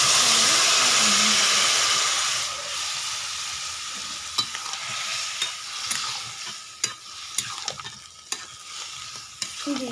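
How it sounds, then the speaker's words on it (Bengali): Boiled pumpkin sautéed with spices and sugar in a pan: a loud, steady sizzle at first that eases off, then broken by sharp scrapes and knocks of a spatula against the pan as it is stirred. "একটু বাকি মশলার সঙ্গে কষিয়ে নেবো"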